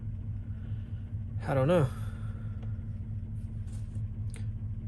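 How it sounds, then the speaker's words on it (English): A 2014 GMC Sierra engine with an injector fault and low oil pressure idles in a steady, close, low rumble, with any ticking or tapping hard to pick out. A voice speaks briefly over it. "This thing's ticking and a tapping like hell."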